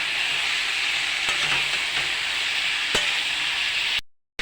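Liver being mixed with salt and turmeric, a steady wet hiss and squelching churn close up, with a few sharp clicks of utensil against the bowl, continuous throughout before cutting off abruptly at the end.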